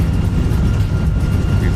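Airbus A319 engines roaring in reverse thrust after landing in a flight simulator, a loud steady low rumble filling the short stretch.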